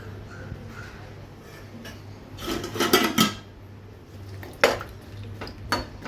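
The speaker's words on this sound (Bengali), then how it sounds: "ফেলে দিয়ে আমি গ্যাসে কিন্তু কড়াই বসিয়ে দিয়েছি" A wok set on a gas stove for mango chutney, with metal pots and utensils clattering and scraping in a few sharp bursts over a low steady background hum.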